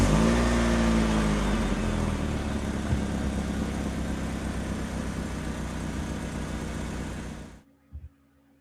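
A car engine runs steadily and loudly for about seven and a half seconds, with a low rumbling drone and slight revving, then cuts off abruptly, leaving a brief thump and quiet.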